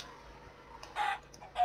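Minecraft chickens in a video game cluck in two short bursts over a faint low background hum, each squawk brief and fairly close.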